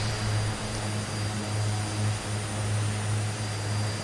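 An Aerosoft Twin Otter flies in Microsoft Flight Simulator 2020, its engine and propeller giving a steady, droning hum that pulses slightly, continuous and with no talk.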